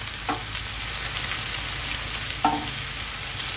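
Frozen food sizzles steadily on a Blackstone griddle outdoors, a constant broad frying hiss with two brief scraping clicks of a utensil near the start and middle.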